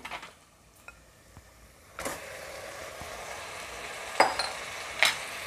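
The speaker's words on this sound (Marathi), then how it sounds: "आणि मटण चांगलं परतून घ्यायचंय" Mutton sautéing in a pan with coriander, a low background sizzle broken by a few sharp spatula scrapes and knocks against the pan, close and moderately loud.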